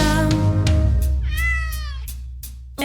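A cat meows in a children's Christmas rhyme song, a few drawn-out meows standing out over a continuous music track.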